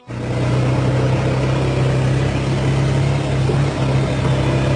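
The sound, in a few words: cars in city traffic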